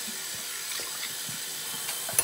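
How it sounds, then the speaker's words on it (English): Tap water runs steadily into a sink during tooth brushing, a soft continuous splashing hiss with faint brief knocks, no talking over it. "Water."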